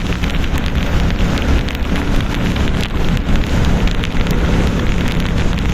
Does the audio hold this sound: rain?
yes